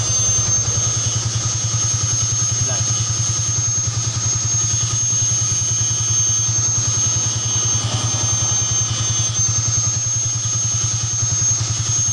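A Yamaha Vixion motorcycle engine idles steadily and close up with a low, even drone and faint clatter, running on throughout while its failing regulator-rectifier causes the charging voltage to drop.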